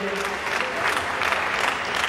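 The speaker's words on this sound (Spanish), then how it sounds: "fuerte aplauso, un fuerte aplauso para él" Applause from the crowd at a 60th anniversary tribute ceremony, sustained clapping filling the space, with a voice briefly audible under it at the start.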